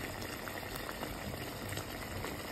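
Potato and eggplant curry simmers in gravy over low heat, a faint, steady bubbling close by with no pauses or voices.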